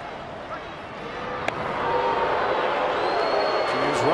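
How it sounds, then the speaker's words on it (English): A partisan Pirates baseball crowd at a home game against the Cubs jeers pitcher James Russell, a broad sustained roar of boos that swells and holds loud across the stands, with a commentator speaking over it. "James Russell hearing it from the partisan Pirates crowd"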